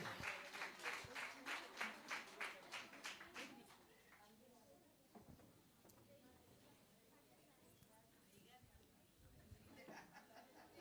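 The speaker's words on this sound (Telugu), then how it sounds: "గట్టిగా చప్పట్లు కొడదాం" A church congregation at a Resurrection Sunday service claps in a rhythmic burst of about a dozen beats. The clapping then fades into quiet murmuring chatter and scattered sounds, and brief claps pick up again near the end.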